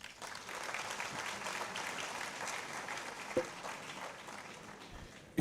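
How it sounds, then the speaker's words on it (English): A crowd at a student climate innovation summit in Zimbabwe gives sustained applause, fairly faint and distant, with a sharp thump near the end. "a round of applause."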